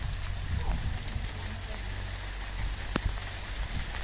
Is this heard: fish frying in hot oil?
no